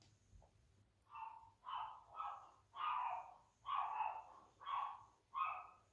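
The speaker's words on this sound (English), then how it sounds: "The dog's going crazy" A dog barks in a steady run of about eight sharp, fairly loud barks, evenly spaced over a faint background, with no one talking.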